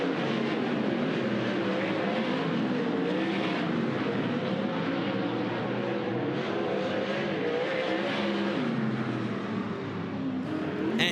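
High Limit dirt track race car lapping at speed at Douglas County Dirt Track: a continuous, loud engine roar whose pitch wavers as it rises and falls through the lap, with no voices over it.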